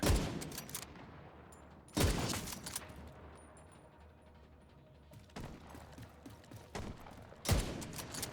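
Sniper rifle shots in The Division 2, four loud single reports spaced a couple of seconds apart, each with a fading tail over a quiet game background.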